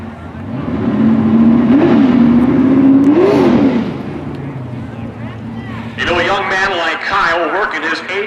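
A 383 cubic inch small block Chevy V8 in a wheelstanding car revs loud and steady, rising in pitch twice, with a crowd and a commentator talking over it in the second half at a power wheelstanding championship.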